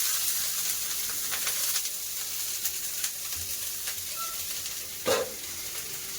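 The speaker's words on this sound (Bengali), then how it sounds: "ফ্রাই প্যানের তেলটা গরম হয়ে গেছে কপিটা দিয়ে দেবো" Cauliflower fries in hot mustard oil in a frying pan, giving a continuous moderate sizzle with a single clunk near the end.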